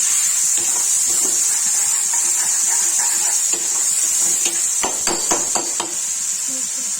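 Onion, garlic, ginger and tomato fry in a pan for a baingan aloo sabzi, giving a steady close hiss with scattered sharp clicks and utensil taps toward the end.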